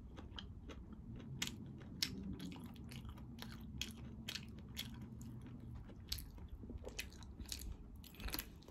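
Close, crunchy chewing and biting of raw spicy Chinese garlic eaten alongside braised pork ear and rice, with steady mouth noises and repeated sharp crunches throughout.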